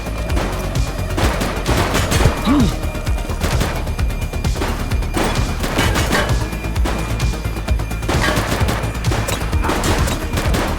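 A shootout in the game The Precinct erupts with loud, dense gunfire, bursts of rapid shots and overlapping cracks repeating throughout, near and intense with no pause.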